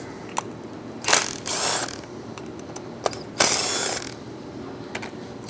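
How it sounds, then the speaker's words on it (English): Ratchet on an 8mm socket backing out clutch cover bolts on a KTM EXC-F dirt bike: two separate bursts of rapid clicking, each lasting about half a second, with a few single metallic ticks between them, close by in a quiet workshop. "we're going to go ahead and take all the bolts off."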